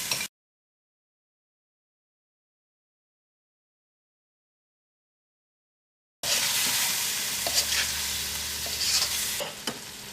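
After a long stretch of silence, chopped tomatoes and salt sizzle loudly in an oiled pan for tomato rice, a close and continuous frying hiss with light stirring.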